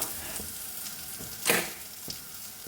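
Garlic sizzles softly in a hot pan while being stirred, a low steady fry with a few scraping stir strokes rising over it, one sharp clatter near the middle, no voices.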